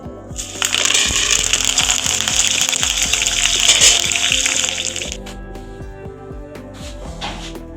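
Curry leaves dropped into hot oil give a loud, bright sizzle and crackle that swells for about five seconds, then settles into fainter spitting and scattered pops.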